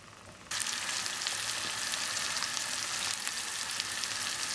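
Sucuk sausage slices sizzle in a pan for a breakfast dish with tomato paste, the steady frying hiss kicking in abruptly after a brief quiet start and holding even and fairly loud throughout.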